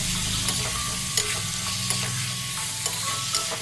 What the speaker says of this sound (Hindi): अब इसमें हम एक चम्मच हल्दी पाउडर दो छोटे चम्मच नमक डाल देंगे और इसे मिलाकर अच्छे तरीके से भून लेंगे